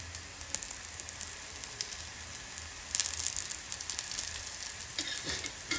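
Besan chila frying in oil on a pan over low heat, a soft steady sizzle with faint crackles that grows a little louder partway through, no voices.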